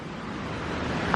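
Broad steady rush of the waterfalls at Fall Creek Falls State Park, a constant close roar of falling water with wind-like texture and no voices.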